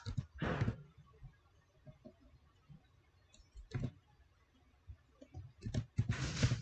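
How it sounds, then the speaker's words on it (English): Quiet keyboard typing at a computer, with a few short bursts of clicking keys separated by long near-silent gaps. "I'm typing some"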